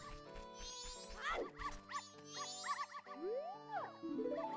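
Cartoonish dog barks and yips ring out in The Legend of Zelda: Majora's Mask, several short chirpy bursts over bouncy game music with springy boing-like sound effects, no talking.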